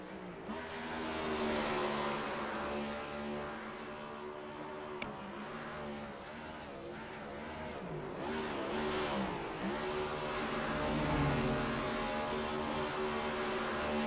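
A stock car in a Cup Series racing video game does a burnout on the front straightaway at Darlington Raceway. The engine roars steadily at high revs with rising and falling pitch sweeps, loud and close throughout.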